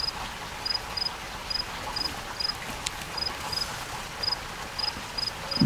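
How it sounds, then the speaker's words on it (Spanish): A cricket chirping in steady, evenly spaced short trills, moderately close, alone against a soft background hiss. "El grillo no canta para usted,"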